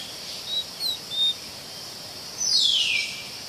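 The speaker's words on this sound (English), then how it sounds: "the jungle pulses with the sounds of insects and birds." In a jungle, a steady high insect buzz drones continuously while birds give short, clear chirps and whistles, ending in a longer descending call.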